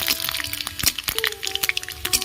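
Dried red chillies and panch phoron crackle and spit in hot oil, a dense run of sharp close pops and snaps over a steady sizzle.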